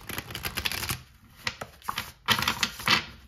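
Deck of oracle cards being shuffled by hand, close and fairly quiet, in uneven riffling bursts with brief pauses between them and no talking.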